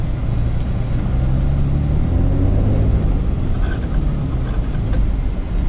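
A Cummins diesel-swapped Ford dually pickup accelerates hard with its tires spinning. A loud, steady roar of engine and road noise carries throughout, with a faint rising whine over it.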